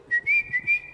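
A person whistling to imitate a mockingbird's tone: four short, bright, steady-pitched whistled notes in quick succession, close and clear, with no talk.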